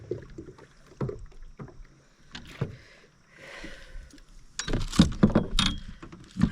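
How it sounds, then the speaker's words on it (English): A kayak is paddled on a remote Maine lake, with irregular splashes and knocks of the paddle and hull coming close by, growing busier and louder toward the end. "Paddle up a little further."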